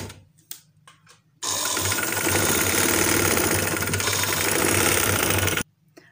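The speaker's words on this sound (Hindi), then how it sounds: "फ्रिल के साथ साथ आप लोग इस पाइपिंग पे स्टिच करना शुरू कर दो" A sewing machine stitches fabric frill onto piping in one continuous rattling run of about four seconds, close and loud, framed by brief bursts of short stitching before and silence after.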